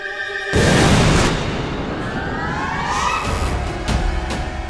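A loud, deep boom bursts out after a brief moment, followed by sustained rumbling and crackling blasts, with a few sharp hits near the end.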